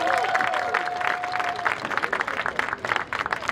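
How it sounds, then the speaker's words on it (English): At a school band performance, an audience applauds the volunteers with moderate, steady clapping mixed with faint crowd murmur and a thin high whistle-like tone early on, the claps growing more scattered toward the end. "Please give them a round of applause."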